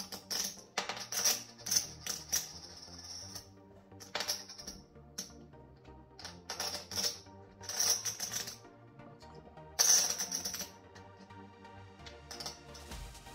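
Clay poker chips clack and riffle together repeatedly in close, crisp bursts, with brief pauses between handfuls.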